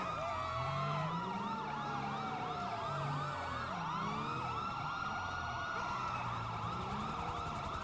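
In the GTA V LSPDFR police game, several police sirens wail and yelp together, loud and continuous and rising and falling in overlapping sweeps, with no talking.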